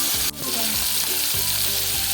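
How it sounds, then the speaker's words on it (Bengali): Chili, onion and prawns fry in hot oil in a pan with a loud, steady sizzle, broken by a sharp clatter early on and rhythmic spatula scrapes. "মরিচ দিয়ে দিলাম এবার দিয়ে দেবো রসুন তারপরে এটা একটু ভেজে নেব"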